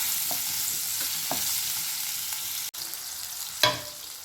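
Eggplant sautéing on a high flame for kathirikka podi, a steady close sizzle and hiss with a few scraping stir strokes and a sharp clack near the end, no voices.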